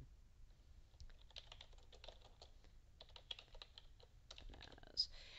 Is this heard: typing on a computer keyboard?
yes